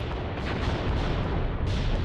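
Artillery barrage in Graviteam Tactics, a field-artillery strategy game: a continuous low rumble of booming shell impacts and distant fire, dense and steady with no talk.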